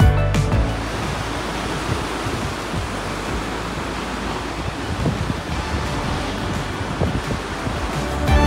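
Ocean waves wash onto the beach at Shek O Village in Hong Kong, a broad continuous roar of surf with wind buffeting the microphone and small swells of louder breaking water.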